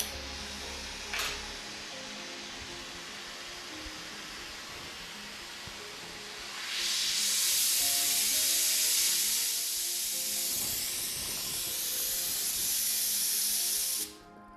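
A gas welding torch flame hissing while a chassis joint is welded, a soft steady hiss that surges into a louder, brighter rushing sound for several seconds before cutting off abruptly.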